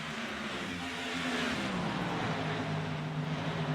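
Race cars roar through a corner on the Auto Club oval in a sim racing game, several engines droning at sustained high revs and rising slightly in pitch as they pass, with no talk.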